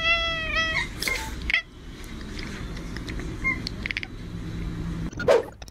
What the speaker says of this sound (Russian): Вот так разбудил кота.